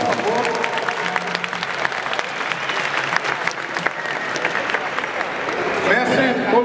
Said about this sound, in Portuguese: Uma salva de palmas para o Mestre Dan, por favor.